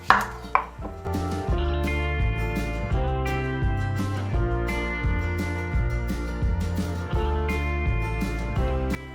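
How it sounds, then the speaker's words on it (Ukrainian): A knife chops onions steadily and rhythmically on a cutting board, close and clear, over a background of music. "дві середні цибулинки, поріжемо"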